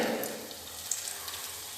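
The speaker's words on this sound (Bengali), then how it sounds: "একটু ডিম দিয়ে দিয়েছি একটু নুন দিয়ে ঝুড়ি ভাজা করে নেব" Egg frying in hot oil with salt, a steady soft sizzle heard close and alone, fading slightly over a short moment with a few small pops.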